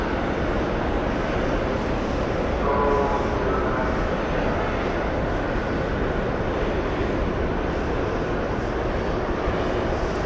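A Singapore Airlines jet at JFK airport, a loud, broad, steady engine roar with a constant rush of noise and no clear rise or fall, heard close and filling the whole stretch.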